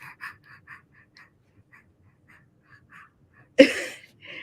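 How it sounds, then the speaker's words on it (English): Baby breathing softly nearby, a series of small, faint snuffling breaths at uneven intervals, then a sudden louder gasping breath near the end. "he's just breathing right now"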